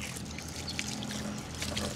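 Water runs steadily from the ablution taps at the Masjid Agung Syuhada mosque, where a row of seven taps serves worshippers. The flow is a continuous, even wash with a low background hum.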